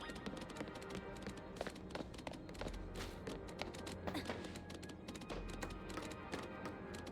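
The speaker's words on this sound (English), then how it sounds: "I love all the footstep noises." Footsteps from the Pokémon Legends Z-A video game, a quick, steady patter of taps running throughout under game music, fairly faint and even.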